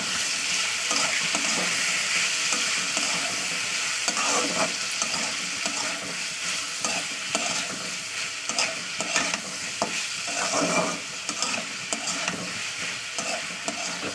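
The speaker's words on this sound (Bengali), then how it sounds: "এবার আমি ভালো করে তেলের সঙ্গে ফ্রাই করে নেবো" Prawns coated in salt and turmeric fry in oil over a full-high gas flame, a loud, close sizzle with frequent irregular clatter and scraping from stirring.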